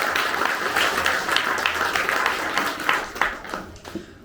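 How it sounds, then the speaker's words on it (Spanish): Applause for Jesus from a crowd at a Catholic religious retreat, a dense burst of clapping that thins out and fades toward the end. "Fuertes aplausos al Señor Jesús por su amor y su misericordia."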